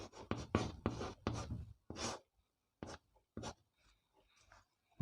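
Chalk or marker scratches across a classroom board during a history lesson in a series of quick, close, scratchy strokes that fade into a few faint taps and pauses, with no talking.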